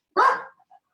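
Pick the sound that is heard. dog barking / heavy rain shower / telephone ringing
dog barking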